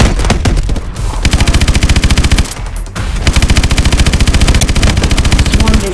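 Rapid, rhythmic bursts from a mech's main gun in Call of Duty Advanced Warfare, loud and close, firing in long sustained strings with two brief pauses between volleys.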